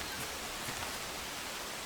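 Steady rain falls in the forest crafting game Among Trees, a soft, even hiss of pouring drops that stays constant and faint throughout, with no voices or other sounds.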